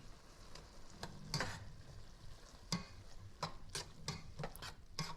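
Chopped meat with wilting arugula stirred in a frying pan for a baked Italian sub sandwich, a soft sizzle beneath repeated sharp scrapes and clicks of a utensil against the pan, close and fairly quiet.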